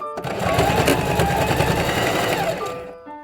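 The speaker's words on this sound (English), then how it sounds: "I've just sewn all the way right round on this" A sewing machine stitches around pieces of upholstery sample fabric for a simple tote bag, running close and steady in one continuous whirring burst for about two and a half seconds before stopping.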